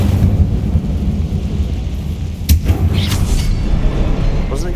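An Incendio fire spell cast in Hogwarts Legacy gives a sudden whooshing burst at mid-clip, heard over a steady low game rumble and ambience.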